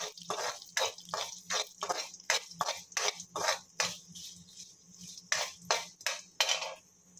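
Dried red chillies and fenugreek seeds roasting in a dry pan, a rhythmic series of about a dozen scraping, rattling stirs of a spatula against metal, close and clear with short gaps between strokes.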